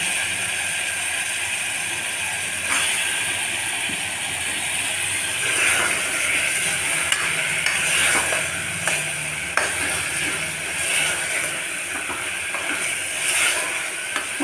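Sliced radish fries in a pan with a steady sizzle, joined by intermittent scraping and clinking of stirring against the pan.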